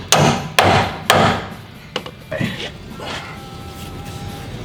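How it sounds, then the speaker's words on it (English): Mallet strikes on hanger bolts at the rear leaf spring of a Toyota Tacoma during a Deaver leaf pack install: three loud, sharp metallic whacks in quick succession, then a couple of lighter knocks and clunks, close by. "we're going to take our mallet and get these hanger bolts out"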